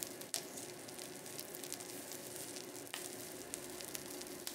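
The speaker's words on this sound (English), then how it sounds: "Move the sprouts around the grill until they're seared on both sides." Brussels sprouts searing on a grill give off a steady, close sizzle with small pops and crackles throughout, and there is no talking.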